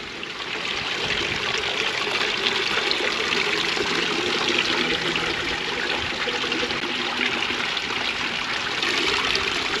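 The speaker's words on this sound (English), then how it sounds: "Oh, look at that water feature." A garden water feature among old pots trickles steadily, a continuous soft splashing wash with no break, close by and alone.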